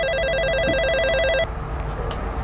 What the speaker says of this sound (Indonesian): Baik, ada telepon.